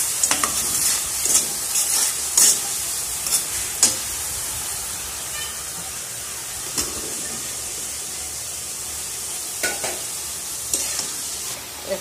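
Vegetables and tomatoes stir-fried in a pan on a home stove give a steady, bright sizzle, broken by occasional spatula scrapes and clinks against the pan, with no talking.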